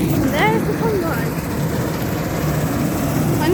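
A big tractor and a combine harvester work a wheat field, their engines a steady low drone throughout while a person talks over the top.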